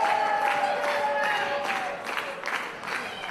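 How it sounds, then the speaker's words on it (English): The crowd at a live NWA Exodus Pro Midwest wrestling show cheers and applauds in a steady, roaring wash that fills the hall, with scattered claps and shouts and a commentator's voice faintly underneath. "I think it's going to start with the crowd in Day's corner"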